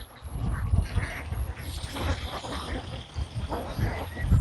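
Ducks quacking on a duck farm, a crowded chorus of overlapping calls and rustling that stays fairly close and steady, with occasional louder quacks rising from the flock.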